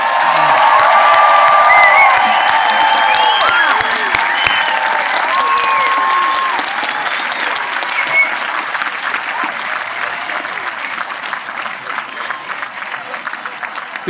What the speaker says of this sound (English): How about one more round of applause for these kids?